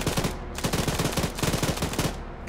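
Machine gun fire in the Arma 3 military shooter rattles out in rapid, sustained bursts with a brief pause in between, loud and close.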